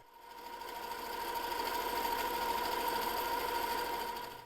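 A sewing machine stitches a quilt block in a steady, fast mechanical whir with an even rhythmic needle pulse, close and continuous throughout without talk.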